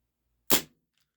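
One sharp, close crack from a Cybergun Desert Eagle CO2 gas blowback airsoft pistol, with a quick fade and silence on either side.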